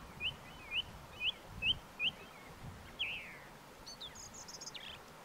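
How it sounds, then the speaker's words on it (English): A goldcrest sings outdoors in Scotland, giving a fairly faint series of short, high, evenly spaced chirps over a soft background hiss. "Goldcrest."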